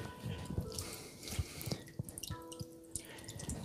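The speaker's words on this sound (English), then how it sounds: "They were sitting in water, so they're dripping." Water drips from large paintbrushes that were sitting in water, falling in an irregular patter of small, close taps over a quiet room.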